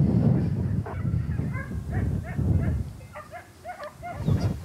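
Hunting dogs on a hare's trail outdoors bark and yelp in irregular bursts, some close and loud, others higher and thinner, mixed with whimpering cries over a rough rustling background.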